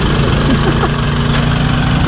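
A tractor engine idles loudly and steadily at a Christmas tree farm, a close, continuous low rumble with a faint mechanical knock throughout the short stretch.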